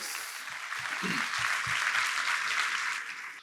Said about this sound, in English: Round of applause for Home Down, please.